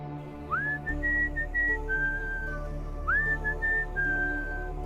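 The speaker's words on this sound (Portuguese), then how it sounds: "Exatamente às 3h03 ouvimos o assobio." Two clear rising whistles, each sliding up then holding a wavering tone, repeated a few seconds apart over a low steady hum.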